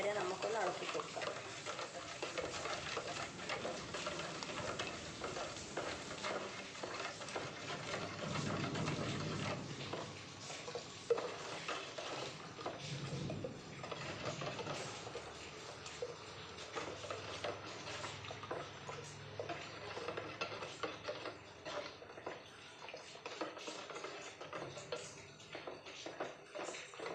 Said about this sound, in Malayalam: അപ്പോൾ ഇത് വേകുന്നവരെ നമുക്കൊന്ന് ഇളക്കി കൊടുക്കാം